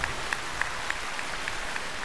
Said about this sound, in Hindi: जोरदार तालियां भारती के लिए।